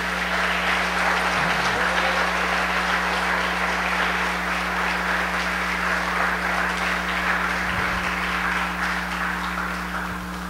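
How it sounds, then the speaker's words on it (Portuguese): A church congregation applauding during a sermon: steady, dense broadband clapping sustained for about ten seconds at a loud, even level, with a low electrical hum running beneath and no speech. "Levante a tua mão e aplaude esse Deus maravilhoso."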